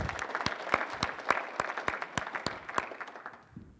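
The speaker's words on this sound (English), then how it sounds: "Let's give him a round of applause." A small audience at an agricultural summit session claps in a sparse, uneven patter of distinct individual claps that thins out toward the end, fairly quiet and without talk over it.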